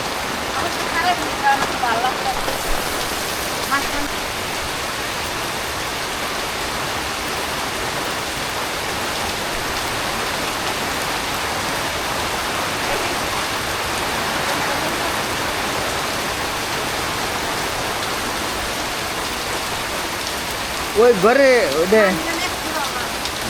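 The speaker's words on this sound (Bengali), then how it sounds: "বৃষ্টির অবস্থা তো একবারে খারাপ" Steady heavy village rain hisses without a break, a thick, even wash of falling water close by, with a few spoken words near the start and a short burst of talk near the end.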